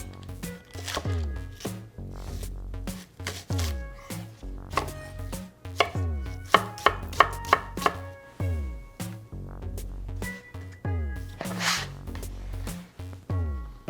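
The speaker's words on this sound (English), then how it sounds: "now to just coarsely chop up an onion" Knife chopping an onion coarsely on a cutting board, with quick irregular bursts of close, crisp chops and short pauses between them, while music plays underneath.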